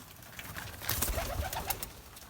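Soft, low pigeon coos repeat a few times in quick succession, nearby, over faint background noise.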